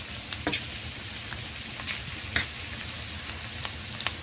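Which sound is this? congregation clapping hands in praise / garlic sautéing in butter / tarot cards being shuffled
garlic sautéing in butter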